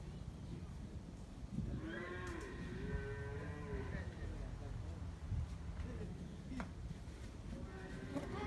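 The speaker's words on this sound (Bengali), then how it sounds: "গরুটা অনেক বড়" A very large dairy cow gives a couple of deep, drawn-out moos at close range, and people talk in the background on a farm.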